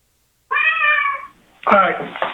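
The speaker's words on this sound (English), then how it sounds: "first I'd like to introduce my cat." A pet cat gives one clear, drawn-out meow, loud and close, followed by a person starting to speak.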